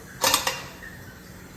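A lid goes over a bowl of dough, a quick creaking scrape of utensil contact followed by a short clunk as it settles, close and brief, with silence between.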